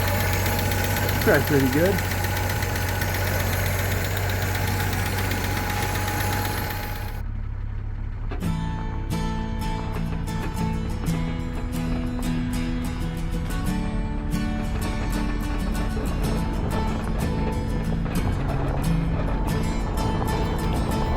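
An engine on a car that sat unused for 28 years, now running with a new fuel filter and adjusted carburetor, idles steadily and close with a low rumble throughout, while a person speaks briefly over it.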